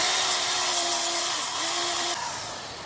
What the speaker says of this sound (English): I just laid the sander to it for a second